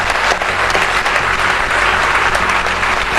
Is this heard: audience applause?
yes